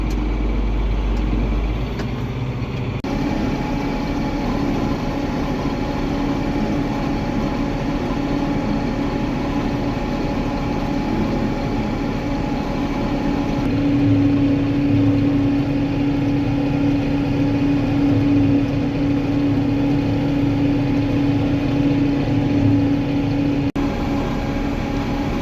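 A John Deere 8760 tractor's engine drones steadily while working a field, a continuous low rumble with a sustained tonal hum that thickens and grows slightly louder partway through, with no talking.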